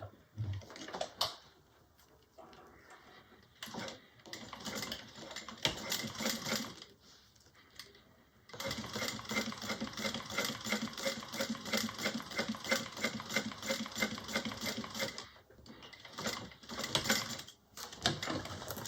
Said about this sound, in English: I'm going to top stitch 1/8 inch from each side.